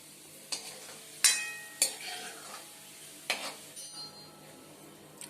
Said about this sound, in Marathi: आता सगळं असं तेल आहे ना ते मिसळून ते सगळं काढून घेते आता एका डिशमध्ये